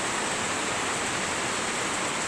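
Steady, dense rain falls over a rural area with rice fields, a continuous even hiss with no talk.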